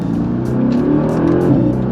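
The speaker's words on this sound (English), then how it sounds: "That was some nice exhaust sound." A 2018 Mercedes-AMG GT's V8 exhaust under acceleration gives a steady, loud, close-up engine drone with faint tire and road noise.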